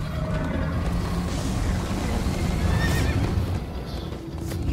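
A horse in the Minecraft Story Mode video game neighs and whinnies loudly over a steady patter of clip-clopping hooves at a gallop, with a dense rumble of movement underneath throughout.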